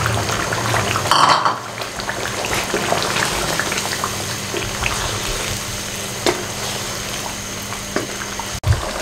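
Chicken karahi gravy with yogurt simmers over a slow flame in a restaurant-style black pepper chicken karahi, giving a steady, soft bubbling hiss with a few faint clinks of the pan, and no talking.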